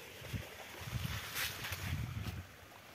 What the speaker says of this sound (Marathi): चाललं बघा पाटाचं पाणी